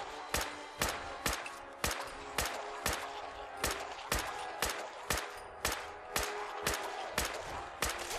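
Steady gunfire in the video game Fallout 4, with about sixteen evenly spaced sharp shots ringing out over a low droning background, fairly close and with no voices.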